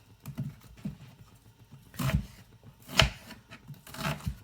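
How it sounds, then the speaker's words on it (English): A knife roughly chops an onion on a board in a few irregular, fairly quiet strikes, with soft scraping between cuts and no voices. "rough chopping this one."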